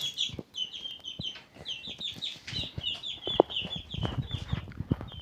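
Many small chicks chirp with high, rapid peeps, close by, with soft scuffling and tapping underneath.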